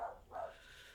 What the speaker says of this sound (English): The dog's going freaking out.